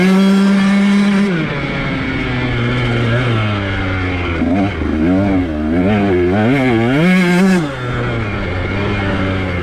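Dirt bike engine on a red trail lap, loud and close, holding a steady note before revving up and down in rapid surges as the rider works through the terrain.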